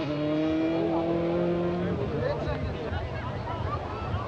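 A rally car at the 2001 Rally of Lebanon accelerates hard with a rising engine note, then changes gear and drives off, heard at moderate distance under a commentator's voice.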